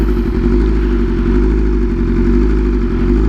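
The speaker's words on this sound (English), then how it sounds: "you're going to slowly let off that clutch, just let it grab until you pick up some speed, and then we're stopping" Motorcycle easing away slowly on the clutch without throttle, then braking to a stop; a steady low engine rumble close by, alone with no talk.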